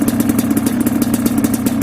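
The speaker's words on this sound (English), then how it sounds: "I got a little bit of an exhaust header leak, but that usually helps when it warms up." A Yamaha Blaster ATV engine idles with a rapid, steady putter, loud and close, and its exhaust header leak adds a sharp ticking, chuffing edge to each beat.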